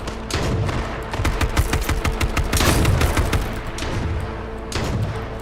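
Dense gunfire in the battle-royale video game H1Z1 King of the Kill, rapid overlapping shots and booming bursts in sustained loud volleys with brief lulls, no talk over it.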